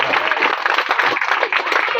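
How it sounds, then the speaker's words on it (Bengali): A church congregation clapping together in praise during a Christian gathering: dense, steady applause from many hands, fairly close and loud, running without a break. "তো এবার পরমেশ্বর প্রভু যিশুর নামে জয় হাততালি।"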